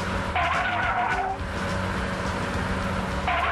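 Race-car tyres screech and skid over a roaring engine in a driving exam, the squeal sharp in bursts at the start and end while the motor drones steadily and loud throughout.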